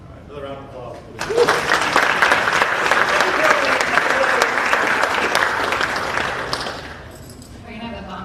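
A large crowd at an Army town hall claps steadily and loudly for several seconds, with brief voices before and after the dense applause that swells then fades.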